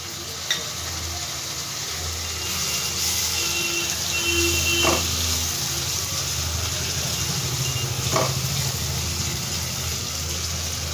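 Chopped medium tomato sizzles steadily in a hot pan among half-fried ingredients, with a constant hiss and a few brief stirring clinks.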